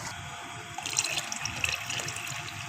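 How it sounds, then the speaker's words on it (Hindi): Mutton broth (yakhni) poured into a cooking pot of mutton trotters, a soft continuous liquid splashing heard close, with no talk. "अब ये देखिए मैं सारी यखनी इसके अंदर डाल दूँगी।"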